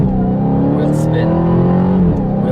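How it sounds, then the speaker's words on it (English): A 2023 Dodge Challenger Hellcat revs hard with its wheels spinning, a loud steady engine roar that holds for about two seconds before easing off, close to the microphone. "That was massive wheel spin right there."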